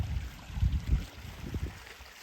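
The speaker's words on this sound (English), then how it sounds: "the brook is flowing very sluggishly today" A slow, low brook flowing sluggishly in dry conditions, with soft gurgles and intermittent low burbles over a quiet outdoor hiss and no voices.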